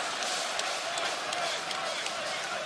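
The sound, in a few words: wrestling crowd cheering in Cardiff arena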